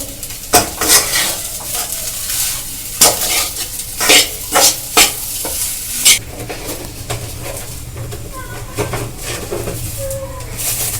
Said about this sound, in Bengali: দিয়ে এটাকে ভালো করে নেড়ে নেড়ে মেশাতে হবে